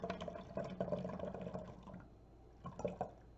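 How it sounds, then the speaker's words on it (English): Water poured through a funnel into a plastic bottle for a homemade lava lamp experiment, a soft gurgling splash that trickles and fades, then a brief burst of glugging near the end. "So I'm going to use my funnel and pour my water in there."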